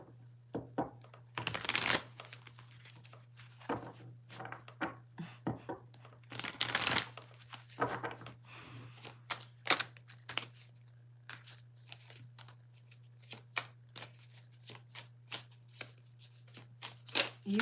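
Tarot of the Nile cards being shuffled, a steady run of soft papery riffles and slaps with a few louder bursts, close and fairly quiet over a low steady hum.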